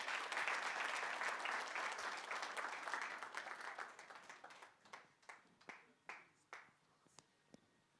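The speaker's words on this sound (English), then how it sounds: "A round of applause for him" A crowd applauds loudly at first, then the clapping thins out and fades into a few scattered, separate claps.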